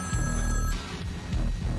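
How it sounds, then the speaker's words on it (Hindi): A telephone bell rings in a movie scene with a bright, steady trill that cuts off after under a second, leaving a low room rumble. "मैंने फोन की रिंग सुन ली है, चल फोन उठा।"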